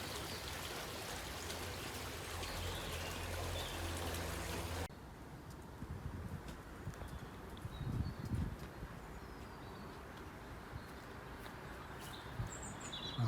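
Water flows and burbles steadily at a low level, with faint bird chirps and insect buzz scattered over the soft outdoor background.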